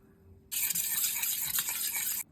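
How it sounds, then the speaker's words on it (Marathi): Curd, or yogurt, is whisked in a bowl for boondi raita. It makes a close, steady wet swishing stir lasting just under two seconds, with no talking. "दही फेटून घेऊ."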